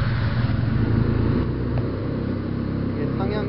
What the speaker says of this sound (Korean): 다시 키온을 하고 시동을 걸어줍니다